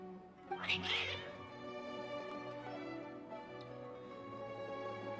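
Agitated cats meow in Genshin Impact, one sharp, strained meow near the start followed by quieter mewing over a soft musical background, close and clear with no talk.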